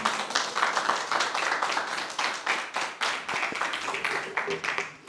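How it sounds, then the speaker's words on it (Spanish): An audience claps steadily in dense, continuous applause for several seconds, with voices faintly mixed in. "Vamos a darle un aplauso a Diri"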